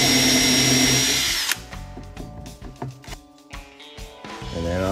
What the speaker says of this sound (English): Now I'm gonna pre-drill.